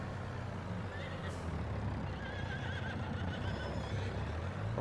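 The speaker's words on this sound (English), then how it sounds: "Look at all those horses." Horses neighing in the farming video game Farming Simulator 22, a few faint whinnies over a steady low engine-like rumble and game ambience, with a person talking over it.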